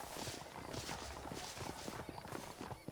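Horse hooves clip-clop steadily and close in the Western video game Red Dead Redemption, a continuous walking rhythm that runs the whole time with no talking.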